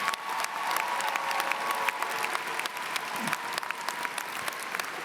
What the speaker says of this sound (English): A quick round of applause for your faculty and everyone else.